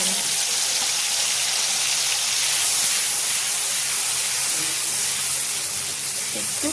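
Tomato paste hits a hot pan with dried red chillies while cooking cauliflower curry, giving a loud, dense, continuous hiss that holds steady throughout.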